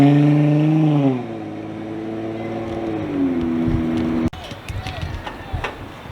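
A Jeep Wrangler in Sport Plus mode accelerates hard, its engine note climbing loudly for about four seconds and then dropping off abruptly, leaving road rumble and light rustling.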